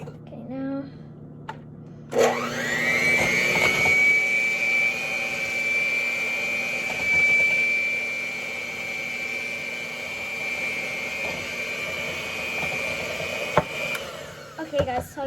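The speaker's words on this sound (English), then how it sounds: "we just finished whisking the egg yolks" An electric mixer whisks egg yolks for a Swiss roll cake, starting abruptly and holding a steady, loud, high motor whine for many seconds before cutting off, with faint bowl clatter at the edges.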